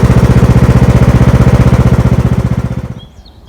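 A lawn mower chugs loudly up close with a fast, regular pulsing beat, then winds down and cuts out near the end.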